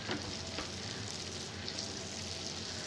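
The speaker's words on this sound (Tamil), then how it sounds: "உருகிறது வெண்ணெய்" Butter melting in a hot pan, a faint, steady crackling sizzle with a few small pops, close and continuous over a short stretch.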